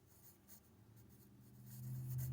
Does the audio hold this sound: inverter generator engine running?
no